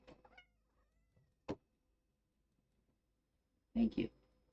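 A cat meows a few times in a quiet room, one short mew early on, then a louder two-part meow near the end, with faint soft clicks and brief speech in between.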